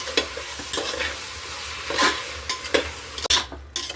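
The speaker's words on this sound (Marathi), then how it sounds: "आता याच्यामध्ये 1 वाटीभर दही घालू, छान मिक्स करून घेऊ दह्याला" Yogurt gets stirred into a sizzling soya and pea pulao mixture in a pan, with repeated scraping strokes of a spoon over a constant frying hiss, close and fairly loud, no voices.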